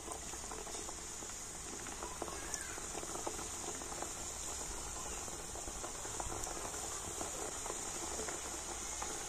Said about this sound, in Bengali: তো এইভাবে একে একে মিষ্টিগুলো আমি তেলের মধ্যে দিয়ে দিচ্ছি।